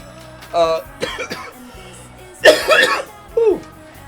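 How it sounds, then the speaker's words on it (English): Several harsh coughs break out close by, spaced irregularly with short breaths between, loud and raspy. "Couldn't tell you why I'm out of breath or coughing."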